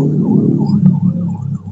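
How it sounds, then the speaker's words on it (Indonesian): An ambulance siren wails nearby over a rumbling traffic bed, its rising and falling tone fairly loud, with a brief thump midway and no talk. "Sebentar ya, ada ambulan ya."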